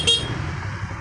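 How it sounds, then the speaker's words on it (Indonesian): Horn of a Kawasaki D-Tracker motorcycle fitted with an alarm, a single short toot at the start that quickly fades under a low steady hum, heard close and alone. "Klakson"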